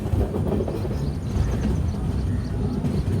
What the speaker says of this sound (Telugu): మన ట్రైన్ అయితే కడప ప్లాట్ఫామ్ నుంచి అయితే బయలుదేరి అవుటర్లోకి అయితే వచ్చేసింది.